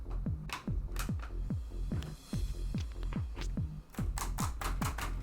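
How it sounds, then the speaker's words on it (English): Brisk typing on the keyboard of an old HP Pavilion computer, a fast run of close, sharp key clicks with short pauses. "That's some good typing."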